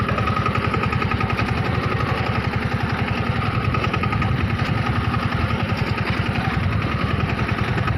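An Eicher farm tractor engine running steadily nearby: a rapid, even diesel chug with a dense rhythmic knock, loud and continuous for the whole stretch, without speech.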